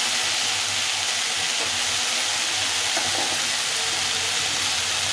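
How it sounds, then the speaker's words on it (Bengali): Food frying in oil in a pan makes a loud, steady, hissing sizzle from close by, continuous and without pause. "এইভাবে তেল দিয়ে ভাজতে হবে"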